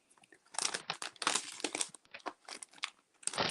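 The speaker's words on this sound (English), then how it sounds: "I'm just going to use the scissors and open it that way" Scissors cut open a cardboard box during an indoor stenciling craft session, giving close, irregular crunchy snips and tearing crinkles in quick bursts with brief pauses between them.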